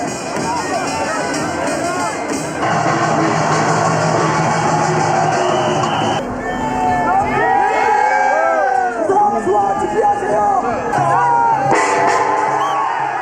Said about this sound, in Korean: 신호와 함께 수만 명의 함성이 울려 퍼지고